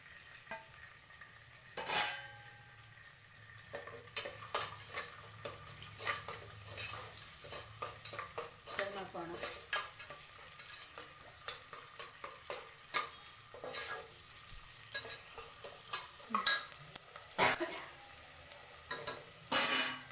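Onions fry in a spoonful of oil in a pressure cooker for a chicken chops dish, giving a close, steady sizzle with frequent clanks and scrapes of a metal spoon stirring, with no voices.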